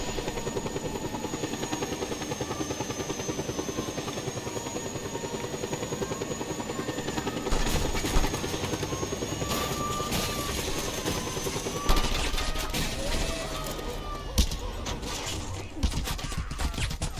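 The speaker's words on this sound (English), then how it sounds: "ruining my helicopter with their inferior helicopter" Video game helicopters with a continuous thudding rotor drone, overlaid midway by bursts of gunfire and sharp impacts in a busy combat mix.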